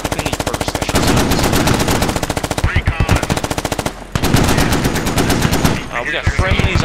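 Marines fire a .50 cal machine gun and a Mk19 grenade launcher in loud, rapid, rhythmic bursts with short pauses between them, very close and dominating the scene.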